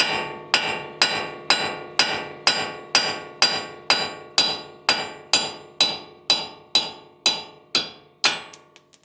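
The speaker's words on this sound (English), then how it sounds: "The first method is to just bang on it with a hammer." Steady hammer blows strike a metal wheel stud on a Toyota Tundra, about twenty sharp, ringing impacts in an even rhythm, loud and close, with no talking.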